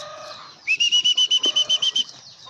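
Pigeons flap their wings as they enter the top of an aviary. A quick rhythmic run of about a dozen close wingbeats comes with a thin high whistle. Chirps sound faintly before it starts.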